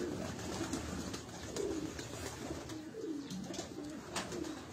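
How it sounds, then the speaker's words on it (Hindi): Flying-breed pigeons coo in low, repeated rolling phrases over steady background hiss, several calls spread through the clip at moderate distance. "ये भी इनका परवाजी कबूतर है।"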